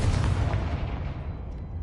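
A fire spell explosion in the video game Hogwarts Legacy, a loud deep blast with a rumbling low boom that slowly decays over under two seconds, with no talk.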